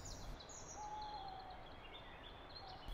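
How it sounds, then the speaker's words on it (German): Owls hooting at night in a quiet, windy outdoor setting, a faint drawn-out call standing out briefly above a steady low noisy background with no talk. "Die Schreie der ersten Eulen wurden laut"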